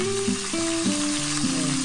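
Steady sizzling of chicken legs frying in a pan for adobo fills the clip, with faint scraping and a low tonal hum underneath.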